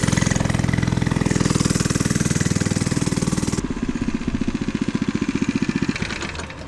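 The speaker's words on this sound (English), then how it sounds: "I got a mini bike" An FRP mini bike's small engine runs loud and close, a buzzing drone that changes character partway through and settles into a steady, pulsing idle-like rhythm.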